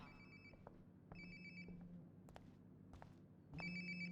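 A mobile phone rings nearby in the video game Life is Strange: Before the Storm, repeating electronic ring bursts between soft footsteps and thuds, with the last ring louder.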